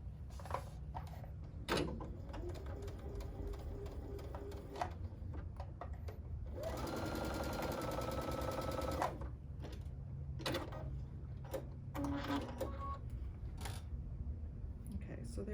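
A sewing machine stitching a quilt square runs in short bursts and one longer steady whir, with clicks and handling noises between, fairly quiet and close.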